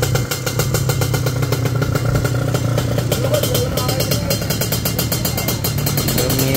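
Racing motorcycle running in a busy race paddock at an Indonesian drag event, a loud steady engine with rapid clattering pulses that stays up close throughout, with faint voices underneath.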